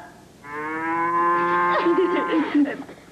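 An invention built to imitate a cow lets out one long, loud, drawn-out moo that wavers and breaks up toward its end, heard alone and close.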